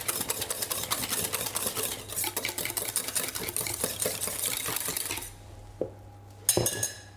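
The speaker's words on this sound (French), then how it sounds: "Vous pouvez mélanger au fouet" A whisk beats sacrificed biscuit batter in a bowl, rapid metallic scraping and clinking strokes in a steady fast rhythm. It stops after about five seconds, then a few separate clinks follow.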